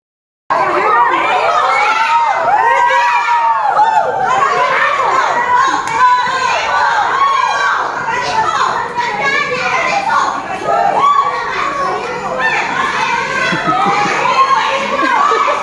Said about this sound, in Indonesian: keluarga korban teriaki terdakwa dengan kata-kata penipu